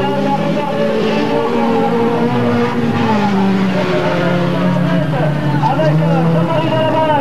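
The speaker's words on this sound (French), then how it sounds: "Belle bagarre derrière avec le Sirocco et la Renault 20." Race cars, including a Volkswagen Scirocco and a Renault 20, battling on track at a 1993 race, engines droning steadily, loud and fairly close, under continuous commentary.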